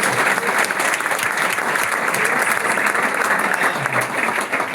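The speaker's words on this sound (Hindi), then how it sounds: "अपने आप के लिए जोरदार तालियां बजा दो" Loud, continuous applause fills a marketing seminar hall as an audience claps vigorously together, a dense steady clatter of many hands at close range with no speech over it.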